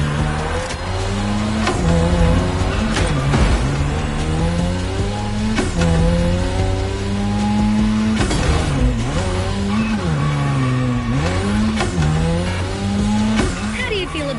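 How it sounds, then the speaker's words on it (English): Modded Mazda RX-7 in The Crew Motorfest racing game, its engine revving and wailing up and down through gear changes while tires squeal through drifts, loud and continuous with a voice talking over it. "How do you feel about my modded RX-7?"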